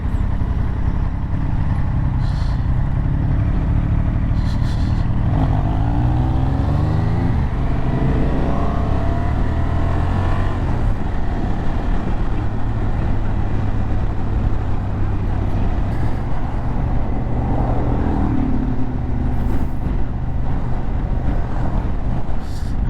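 A Honda Transalp XL750 motorcycle rides along a road, its engine droning continuously with rising and falling revs under heavy wind rush, loud and steady throughout.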